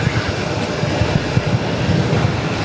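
A Southwest airliner rolls for takeoff on runway 22 right at Boston Logan, a steady broad engine roar with low rumbling that holds constant throughout, heard from a distance with no one talking.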